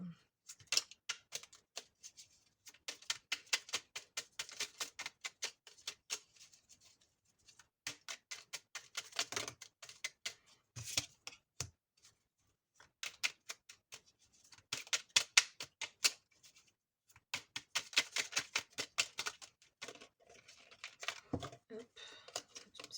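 Angel oracle cards are shuffled and drawn in bursts of rapid, crisp riffling clicks and flicks at close range, with short pauses between the bursts and no talking.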